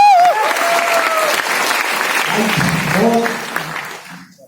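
A seminar audience breaks into applause, a mass of clapping that swells and then thins toward the end, while someone speaks Hindi over it.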